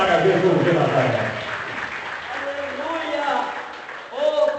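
A church congregation applauds during a service, a dense wash of many hands clapping at the start that thins out, with a voice speaking over it near the end.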